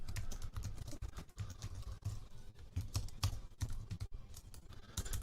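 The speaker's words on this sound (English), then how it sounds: "so I'm just typing out" Soft, quick keyboard typing taps away in irregular bursts, close and quiet, with no voices.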